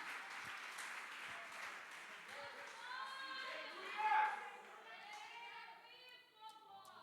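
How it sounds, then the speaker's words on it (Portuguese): A church congregation at a Friday evening service applauds in a sustained, moderate clatter of many hands, while voices talk and sing faintly over it. "Aplaude ao Senhor, meus irmãos."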